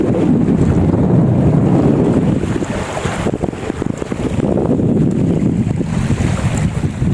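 Loud, gusty wind roars over splashing, lapping reservoir waves at Huai Mai Teng, Ratchaburi, Thailand, in a constant rumbling wash, with no one speaking.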